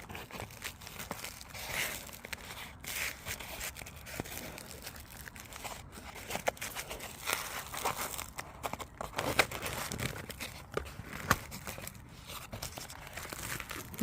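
Old two-layer paper packaging with bitumen sandwiched between the sheets, from a WW2-era parcel for a 1912 Wayne petrol pump, crinkles and tears steadily at close range, with sharper rips scattered throughout and no talk.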